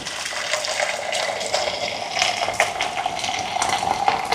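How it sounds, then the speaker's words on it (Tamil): Hot water pours steadily into a pot of crab curry, a continuous splashing stream close by with no voices. "சுடு தண்ணி"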